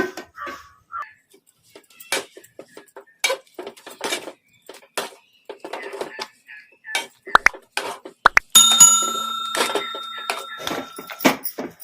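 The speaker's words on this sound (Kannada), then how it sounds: "ಬಟಾಣಿ ಆಲೂಗಡ್ಡೆ ಮೆತ್ತಗೆ ಬಿಟ್ಟಿದ್ದಾವಲ್ಲ ಈ ಥರ ಸ್ಮ್ಯಾಶರಿಂದ ಸ್ಮ್ಯಾಶ್ ಮಾಡ್ಕೊಂಬಿಡೋಣ" Boiled peas and potatoes being pressed with a masher in a pot: a run of close, uneven metallic clanks and soft thuds, with a steady high whistling tone joining partway through.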